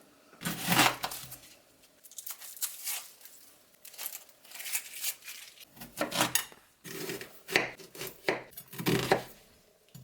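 A knife chops an onion on a cutting board in a home kitchen while turkey soup is prepared: a series of crisp, close, uneven knocks and slices in short bursts, with brief pauses between runs.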